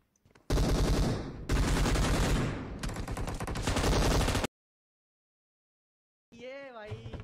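Rapid automatic gunfire in PUBG Mobile, loud and dense in three long bursts, then a stretch of silence before a short burst of other game sound near the end.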